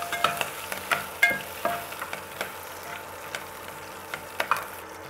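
Bay leaf, garlic and chili fry in a hot pan with a steady sizzle, broken by sharp clicks and scrapes of a spoon stirring every half second or so.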